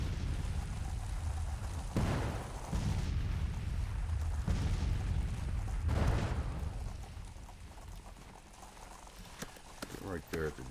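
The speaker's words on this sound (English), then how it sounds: "And the artillery's getting there ahead of the infantry." Distant booms of artillery fire in a Civil War strategy game sound out several times amid a bed of horse hooves and marching noise, with a voice talking over them.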